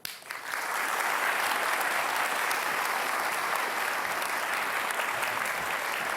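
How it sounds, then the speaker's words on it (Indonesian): A studio audience at a televised Jakarta candidate event applauds two gubernatorial candidates, Basuki and Anies, with loud sustained clapping that swells quickly and holds evenly for several seconds. "Sekali lagi kita kasih tepuk tangan untuk dua kandidat"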